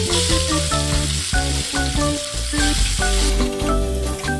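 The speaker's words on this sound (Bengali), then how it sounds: "মাছগুলো আগে ভেজে নেব।" Fish pieces rubbed with salt and turmeric fry in a hot pan, a steady bright sizzle running under loud background music throughout.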